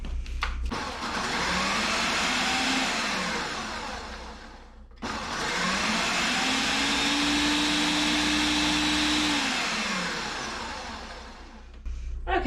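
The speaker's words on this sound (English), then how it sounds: "we've finished blending up our egg powder" Blender grinding fluffy freeze-dried eggs into powder, a loud steady motor whir running about four seconds, a brief pause, then a second long run that rises and slightly changes pitch before stopping.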